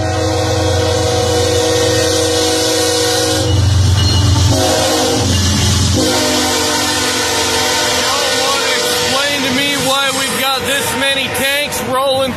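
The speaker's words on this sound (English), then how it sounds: "You hear that train coming?" Freight train passing in North Dakota, a loud sustained horn blast over heavy rumbling rail noise, followed by rhythmic wheel clatter and squeals as the cars roll by close; someone talks over it.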